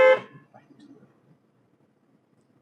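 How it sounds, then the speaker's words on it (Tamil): A car horn honks once, loud and close, during a driving lesson, then fades to quiet engine and road noise. "ஹாரன் கண்டிப்பா ஒரு தடவை."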